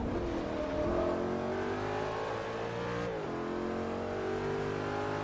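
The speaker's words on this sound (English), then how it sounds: "we're driving the Alfa Romeo 8C for this one." Alfa Romeo 8C V8 engine in the racing game Forza Motorsport 3 revs and climbs through the gears, a steady, close, continuous drone with rising pitch and a brief dip at a shift.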